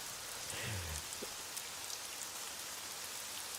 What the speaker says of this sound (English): It sounds like there's some hail, some sleet in there.